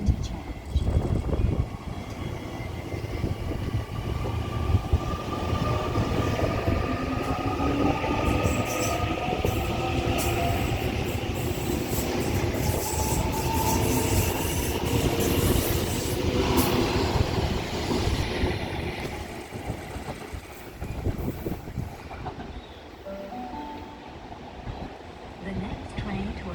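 Onboard a Mariyung D set electric train in New South Wales, Australia: a continuous rumble of wheels on track with motor whine that rises and falls, occasional squeals and rattles, and faint voices at times.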